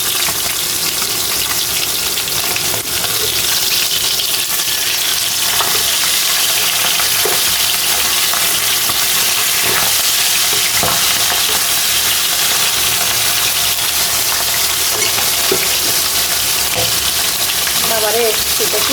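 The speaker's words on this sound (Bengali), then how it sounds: "আর এই পাশে যে মাছ ভাজতেছি" Fish frying in a pan gives a loud, steady sizzle that runs unbroken throughout, with occasional stirring scrapes and faint background voices.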